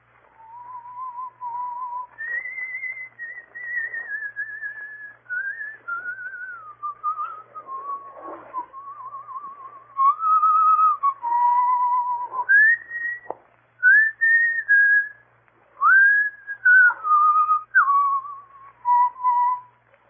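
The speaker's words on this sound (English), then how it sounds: "He will pass the word Blackstone and whistle Annie Laurie." A person whistles the tune Annie Laurie as a clear, melodic solo line of sustained notes and slides, heard alone, from an old-time radio drama.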